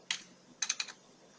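A computer keyboard is typed on nearby: one quick keystroke, a pause, then a short cluster of three or four crisp clicks, fairly soft.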